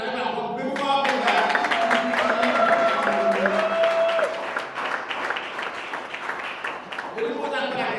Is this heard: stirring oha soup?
no